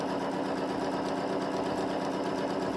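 A sewing machine stitching lines across a quilt runs at a fast, steady whir with a continuous, even mechanical buzz, close up and without talk.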